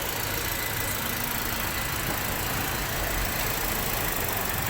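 A just-repaired car engine runs at a steady idle nearby, an unbroken broadband hum and rumble with no pauses and no voices over it.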